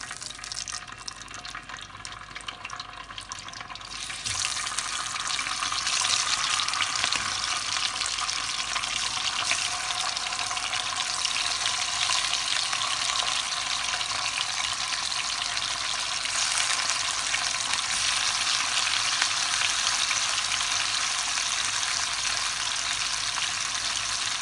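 Hilsa fish pieces drop into hot oil and it sizzles: a quieter crackle at first, then a loud, dense frying hiss about four seconds in that stays strong to the end.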